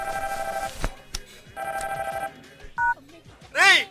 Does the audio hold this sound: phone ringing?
yes